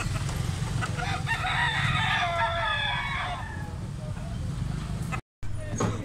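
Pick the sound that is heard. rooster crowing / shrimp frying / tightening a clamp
rooster crowing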